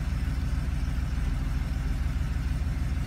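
A car engine idles after a cold start with an even, pulsing low rumble that holds steady throughout, close and unaccompanied by talk.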